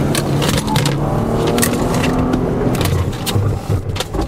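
A Porsche Panamera 4 E-Hybrid in Sport Plus mode, loud steady engine and road noise from inside the cabin, with tonal drone and some scraping crackle running throughout and no speech heard.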